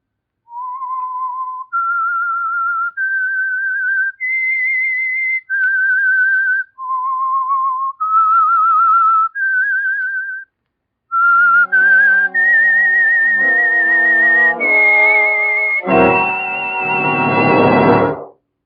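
A clear, melodic whistled tune of sustained notes, first thin and solo, then joined by a fuller orchestral swell that ends in a loud flourish.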